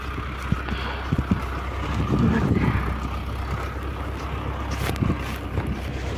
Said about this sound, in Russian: Трактор чистит дорожку тут.